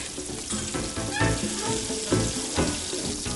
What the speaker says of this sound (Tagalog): Iginisa rito ang sibuyas, kamatis at basil.